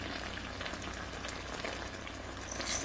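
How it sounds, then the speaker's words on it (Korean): Spicy braised tofu and zucchini simmer over high heat in a pan, giving a steady, soft bubbling and sizzling that runs evenly throughout, fairly quiet and with no voices. "두부와 호박에서도 수분이 있기 때문에 충분히 보글보글 끓으면서 얘가 잘 졸여져요."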